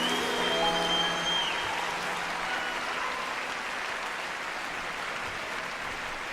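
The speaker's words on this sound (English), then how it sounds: "Give yourself a round of applause there, I think." A concert audience at the Royal Albert Hall applauds, a dense, steady wash of clapping that slowly fades, with a lingering musical tone at the start.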